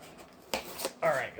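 Blade cutting tough plastic wrap and tape on the box of a Tyco Johnson Wax Baldwin RF16 Sharknose train set, a few quick close snips and rasps.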